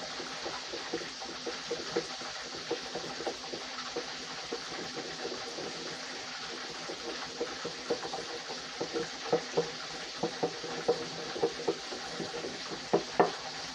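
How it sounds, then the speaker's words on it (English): Sauce ingredients for a Chick-fil-A copycat sauce, finished with onion powder, whisked together in a bowl: steady close clicking and swishing strokes that grow sharper and louder toward the end, with no talking. "You just get yourself a whisk. You just mix all that goodness together."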